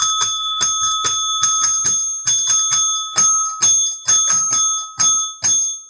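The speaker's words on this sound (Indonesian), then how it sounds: "Lonceng, lonceng." A bell rings repeatedly in sharp metallic dings, about a dozen bright strikes in quick irregular succession, each ringing out briefly before the next, loud and close with no talk over it.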